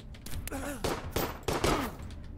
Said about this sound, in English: Please fire your machine gun.